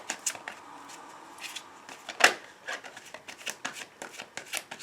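Tarot cards shuffled by hand for a Valentine's Day love reading: quick papery riffles and soft slaps in irregular bursts, with one louder snap midway, close and fairly quiet, without speech.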